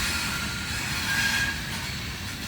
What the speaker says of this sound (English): there she goes. Westbound loaded rock train.